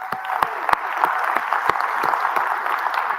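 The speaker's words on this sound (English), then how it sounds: "Can we give him a round of applause?" Audience at a TEDx event in Detroit clapping for a man called up on stage, a lively run of applause with several sharp, close individual claps standing out from the crowd.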